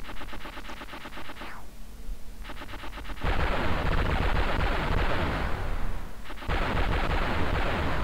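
Rockets and rapid gunfire from the Amiga shoot-'em-up Silkworm form a dense, continuous stream of retro rattling blasts and explosions, loud and steady with brief gaps.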